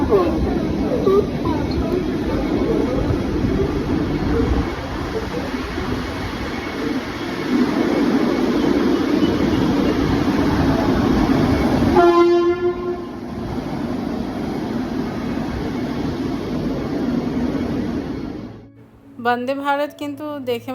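A Vande Bharat express train at a quiet station, its loud steady rumble and wheel noise filling the scene, a horn blast sounding midway, and a voice talking near the end as the noise fades.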